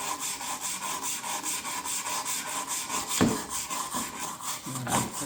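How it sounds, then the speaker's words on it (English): A carburetor heat shield part being scrubbed with a brush, a rhythmic rasping back-and-forth rubbing at a steady quick pace, close and loud, with a couple of louder knocks partway through. "just got an impulse to scrub."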